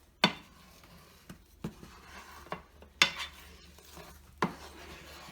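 Metal spoon scraping across the bottom of a pan as scrambled eggs begin to clump, heard as a few distinct scrapes and clinks spaced irregularly over a quiet kitchen background.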